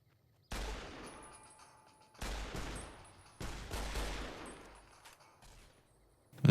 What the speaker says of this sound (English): With my shots clipping on the rock there